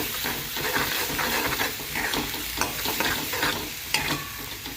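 Grated coconut, green chili, garlic and coriander stir-fried in a pan, giving a steady close sizzle with scraping stirring strokes throughout, and no talking.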